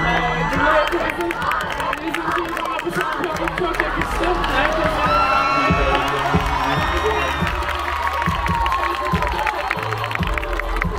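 A stage audience applauds and cheers for Hande at an award ceremony, a dense continuous wash of clapping and shouts with voices mixed in throughout.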